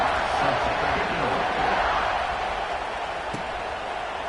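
A stadium crowd in an NCAA football video game roars in a steady, dense wash of cheering, loud and continuous throughout with no single voice standing out.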